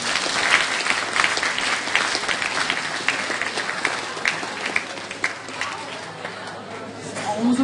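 Sustained applause from a live audience at a school campus Kashmir Day speech event, welcoming the next speaker; dense, steady clapping throughout with a faint murmur of crowd voices beneath.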